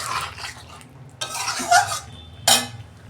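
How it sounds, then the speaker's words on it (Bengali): Utensil scraping and clinking in a pan as goat liver curry is stirred and fried over a low gas flame, with a soft sizzle underneath and a couple of sharper metallic knocks. "গ্যাসের ফ্লেম আস্তে করে আমি কষাবো এখন।"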